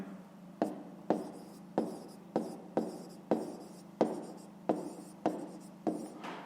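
A maths solution written by hand in a fifth-grade exercise, heard as a regular run of about ten brisk pen strokes scratching on paper, close and quiet, with no speech.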